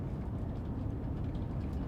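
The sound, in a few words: Class 47 locomotive in Train Sim World 4, video game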